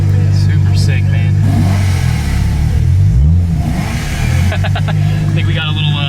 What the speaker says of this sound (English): I think we got a little G37 revving at us here